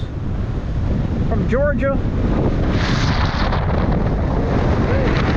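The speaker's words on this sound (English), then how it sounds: "Wind is blowing." Strong wind buffets the microphone during a bike ride near the beach at St. Joseph Peninsula State Park, a loud continuous rumble with a brief voice speaking partway through.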